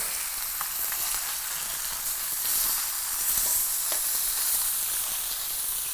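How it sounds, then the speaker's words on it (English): Salmon fries skin-side down in a hot pan with a steady, close, even sizzle that holds at the same level throughout without pausing. "We're going to turn over our salmon now."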